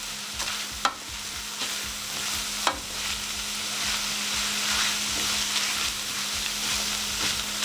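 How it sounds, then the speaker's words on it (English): Cabbage stir-frying and cooking down in a pan, giving a steady close sizzle with occasional sharp stirring clicks and scrapes. "let the cabbage cook down and cook some liquid off"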